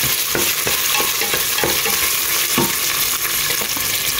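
Onions fry with curry leaves in a hot pan, a dense, loud sizzle punctuated by regular scraping strokes of stirring at a steady rhythm.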